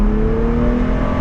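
A Toyota Tacoma V6 pickup accelerates onto a freeway, its engine pulling with a loud, steady drone and rising tone, heard up close from inside the cab over a short burst.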